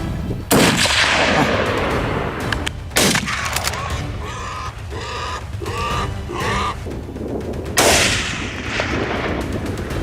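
Rifle shots ring out during a wild boar hunt, a sharp loud crack at the start and another about two seconds later, then a third near the end, with birdlike clucking calls in between outdoors.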